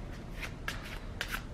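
Playing cards riffled through by hand in a card-trick setting, a few quick papery shuffling bursts close up, alone without talk.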